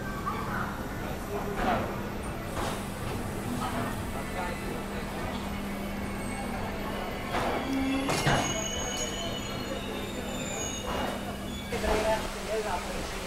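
The Brindavan Express, leaving Chennai Central's platform 6 for Bangalore, rolls along with a steady low hum, occasional high wheel squeals and rattling carriage noise, while a voice talks over it.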